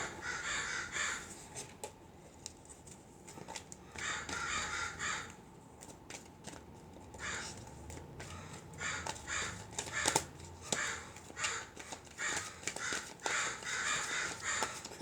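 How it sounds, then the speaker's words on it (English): Crows caw outdoors in repeated harsh bursts, several calls in quick clusters with short gaps, at a moderate distance, and no one talks. "The crows out there are having an argument."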